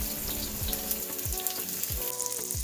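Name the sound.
frying chopped onions in oil in a wok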